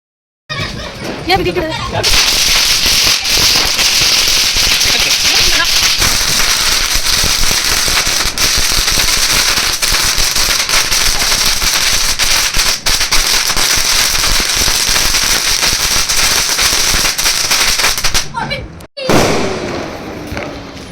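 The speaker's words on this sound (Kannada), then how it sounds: "ಸೊ ಇವಾಗ ಸರ ಪಟಾಕಿ ಹೊಡಿಯೋಕ್ಕೆ ರೆಡಿ ಮಾಡ್ತಾ ಇದ್ದಾರೆ" A long string of firecrackers set off for a Deepavali celebration pops in a dense, continuous crackling barrage for about seventeen seconds, loud and close, then cuts out abruptly, with a brief burst of further noise after a short gap.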